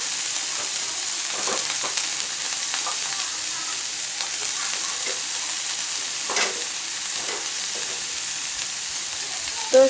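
Capsicum and other vegetables for paneer fried rice fry in a pan with a constant, close hiss and crackle, broken by the light scrape and clatter of stirring, with a sharper knock at the very end.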